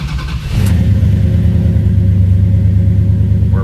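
A turbocharged Dodge Diplomat engine fires for its first test start, a brief cranking whine that catches into a loud, steady, close idle rumble.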